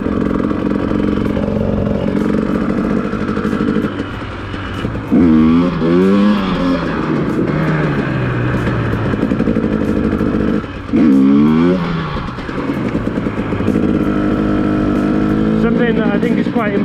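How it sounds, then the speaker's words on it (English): A dirt bike engine revs up and down repeatedly in loud, rising bursts as the rider practises slow wheelies, the motor droning steadily between the throttle blips. "I want to learn to slow wheelie."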